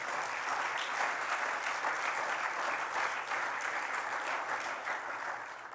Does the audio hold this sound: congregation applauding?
yes